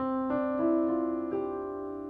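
Soft, bell-like keyboard notes enter one after another, stacking into a close, ringing cluster that sustains quietly.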